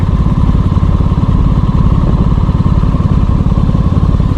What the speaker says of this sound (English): I'm struggling to find the Billy Bolt button on this bike